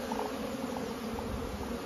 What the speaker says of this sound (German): die Bienen fliegen wie im Sommer